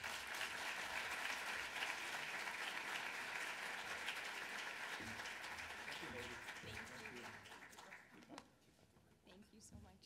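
A lecture-hall audience breaks into sustained, dense applause to welcome a speaker at a leadership lecture. The clapping stays full and steady, then thins and fades toward the end.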